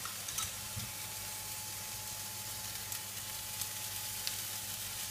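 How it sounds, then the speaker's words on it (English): Pizza mince topping sizzling in a pan as sauce goes in, a soft, steady frying hiss with faint crackles and a low background hum, quiet and close. "right now I'm going to add a little bit of this sauce"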